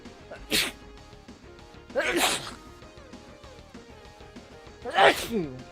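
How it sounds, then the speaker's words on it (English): Three separate loud sneezes spaced a couple of seconds apart, each a sharp burst with voiced tails, close up. "I did not mean to sneeze so aggressively."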